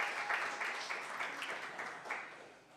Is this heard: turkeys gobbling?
no